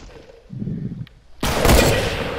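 Sniper gunshots in the video game Sniper Shootout: a muffled low thump early on, then a loud sharp shot that bursts out and rings with a long decaying tail.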